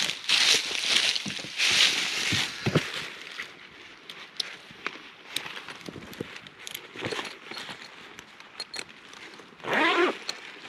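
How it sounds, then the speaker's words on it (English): Zippers on a heavy duty canvas tent bag are pulled open in several quick rasping bursts, close up, mixed with rustling and handling of the bag. "Nice zippers on this bag,"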